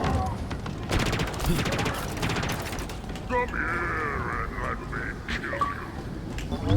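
Gunfire from Halo Infinite weapons in rapid bursts, loudest in the opening seconds and then thinning out, with voices talking over and around the shots.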